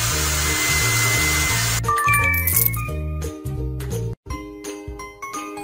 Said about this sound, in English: Now let's use a hair dryer.